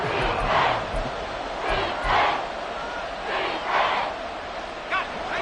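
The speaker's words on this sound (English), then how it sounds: "crowd in full roar" Football video game crowd at Arrowhead Stadium roaring loudly and continuously, with repeated swelling surges of shouting that rise and fall every second or so.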